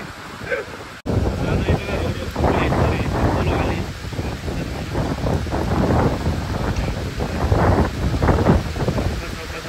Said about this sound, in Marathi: वारा फुल आहे